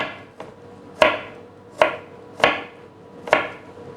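A knife chops ingredients for a creamy chicken curry with pineapple, four or five sharp, close blade strikes on a cutting board at uneven intervals with quiet gaps between them.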